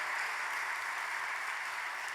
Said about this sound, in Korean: 한 번 더 큰 박수 보내주십시오.